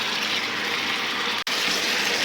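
Water gushes steadily into a pan of aloo dum, a Bengali potato curry of fried potatoes in cooked-down spice masala, with a continuous bright pouring rush that breaks for a split second near the end before resuming.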